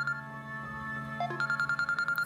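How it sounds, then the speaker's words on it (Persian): A mobile phone rings indoors during a dramatic scene, a steady repeating electronic ringtone pulsing in short regular bursts, moderately loud and alone. "تلفنت زنگ میخوره، ببین کیه."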